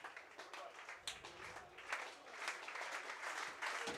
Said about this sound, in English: Here comes the standing ovation and the claps.